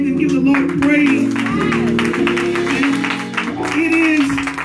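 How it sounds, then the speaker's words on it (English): Hands clap continuously through a worshipping church congregation, blended under loud, sustained voices and music that dominate the mix for the whole stretch. "Clap your hands and give the Lord praise."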